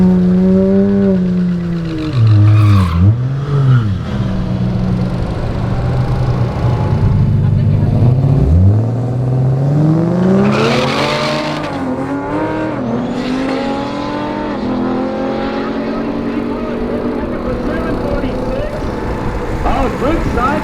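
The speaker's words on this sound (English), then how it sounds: "Oh, good side-by-side race there." Race cars running side by side on an oval track, engines droning and pitching up and down as they pass close by, with a commentator talking over the steady racing noise throughout.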